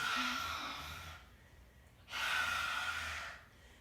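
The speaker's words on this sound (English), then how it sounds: "make some funny breathing noises" Two long, exaggerated breaths, each a loud airy rush through an open mouth, separated by a brief quiet pause.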